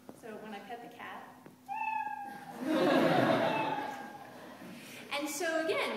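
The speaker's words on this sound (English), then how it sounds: "When the light goes below a certain level, it plays a kitten sound." A kitten meow sound effect triggered by a light-sensor program when a toy cat is petted, heard as several short synthetic meows around louder background noise and voices from a keynote audience.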